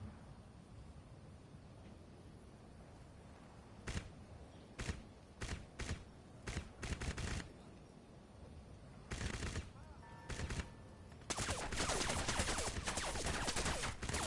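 Rifle fire at a turret in the video game Crysis comes as bursts of loud, close shots, several separate volleys and then a sustained barrage near the end, with no talk.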